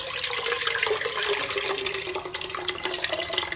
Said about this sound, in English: now I'm gonna add it all the liquid.